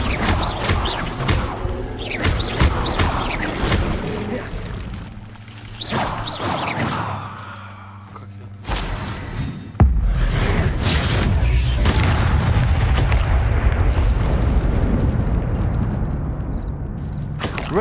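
The Incendio fire spell is cast in Hogwarts Legacy: sharp magical bursts and clatters, then a loud boom that gives way to a sustained roaring rush of flame.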